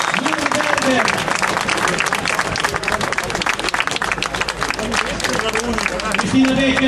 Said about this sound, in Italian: l'applauso per Charlotte Becker